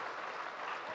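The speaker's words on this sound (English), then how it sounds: "please give the President of the Republic of Kenya, William Ruto, a round of applause" An audience at a business summit fireside chat claps for Kenyan President William Ruto, a brief, steady burst of dense applause heard on its own.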